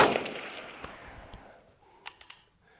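Rifle shots from an EMR-1 fitted with an ELF trigger fired at a target: one loud sharp crack at the start with a long decaying echo, followed by a few fainter distant pops and impact-like ticks.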